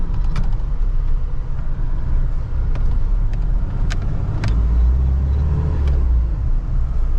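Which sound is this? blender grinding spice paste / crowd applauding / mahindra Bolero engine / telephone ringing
mahindra Bolero engine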